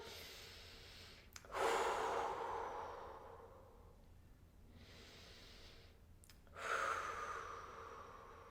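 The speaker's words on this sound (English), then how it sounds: "Take a few deep breaths here." Slow, deep breathing during a lower back stretch, two long audible breath cycles with breathy inhales and exhales close to the microphone, otherwise quiet with no speech.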